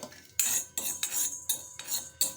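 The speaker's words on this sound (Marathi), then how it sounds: "आता काळी मिरी लवंगा एकत्र मी भाजून घेत आहे" Black pepper and cloves dry-roasting in a pan, heard as repeated bright scraping strokes of a utensil against the pan, a steady rhythm of about five sweeps, close and clear with no talk.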